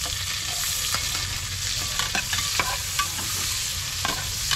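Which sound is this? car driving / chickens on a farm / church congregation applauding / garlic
garlic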